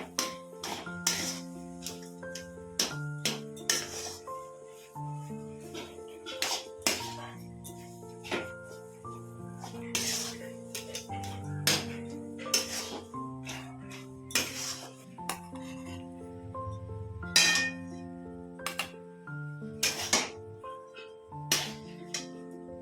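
Metal spoon scraping and clinking against a pot while chicken is mixed with a roasted ground spice blend of garam masala, coriander, cumin and black pepper; frequent irregular clinks and knocks close by, with tonal background music throughout.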